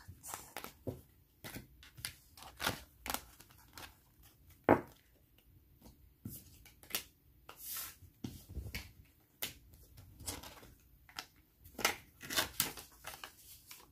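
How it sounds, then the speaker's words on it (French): Tarot cards are gathered up by hand in a quiet room, giving a scattered run of soft taps, slides and sharp clicks at an uneven pace. "Juste le temps de ramasser les cartes"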